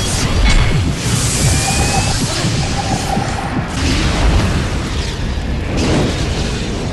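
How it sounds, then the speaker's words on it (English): A wildfire in the Southern California hills gives a loud, continuous roar and rumble, dense and unbroken, with no voices over it. "A wildfire blasts through the Southern California hills at terrifying speed."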